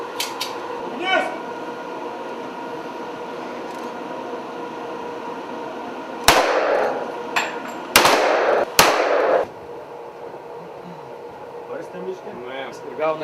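Several sharp rifle shots crack out during a live-fire military shooting exercise, a tight cluster of loud reports midway, with an instructor's voice and background noise around them.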